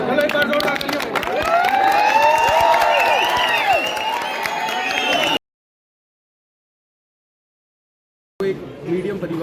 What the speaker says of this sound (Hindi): चलो एक बार जोरदार तालियां।